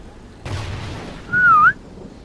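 A rising-falling whistle calls dogs in the Call of Duty Ghosts video game, heard briefly over a burst of game noise and rumble, loud and close, with no talking.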